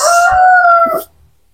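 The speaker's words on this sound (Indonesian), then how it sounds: "suara apa suara ayam berkokok ya" A single rooster crows once, loud and near, in a plantation area behind village houses, a sustained call that cuts off abruptly into silence.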